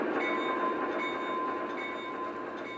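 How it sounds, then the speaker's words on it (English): The horn of a Vision Line Centipede AA model locomotive sounds as one steady, sustained tone, held evenly throughout and fairly loud with no pauses. "Now you can hear the volume of the horn."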